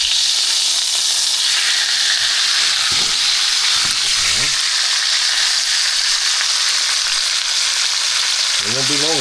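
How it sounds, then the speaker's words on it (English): A leg of lamb sears in a pan with a loud, steady sizzle close up. Faint low voices murmur underneath at times. "We're pan searing it now."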